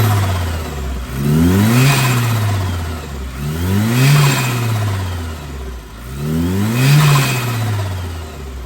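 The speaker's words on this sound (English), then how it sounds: "Let's give her a couple of revs," A car engine, a 2023 model, revs up three times in steady succession, each burst climbing in pitch and dropping back to idle, loud and close with no talking over it.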